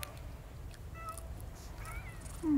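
Cats gathered at a cat island feeding spot let out a few faint, short meows against quiet outdoor ambience, followed by a louder, closer cry at the end.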